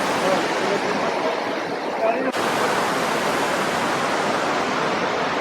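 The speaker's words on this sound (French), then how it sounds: "On est vraiment au-dessus de la rivière là les amis." An underground river rushes below a cave chamber, a loud, steady roar of flowing water filling the space without a break, with voices talking faintly beneath it.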